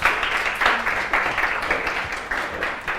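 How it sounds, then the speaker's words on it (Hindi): An audience in a lecture class claps in a sustained round of applause, many hands patting steadily and fairly close for the full stretch, with no talking over it. "एक बार ताली बजा दीजिए सब लोग"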